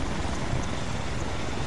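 Steady, dense rotor and engine roar of a helicopter in the video game ArmA 3, loud and continuous with no pauses.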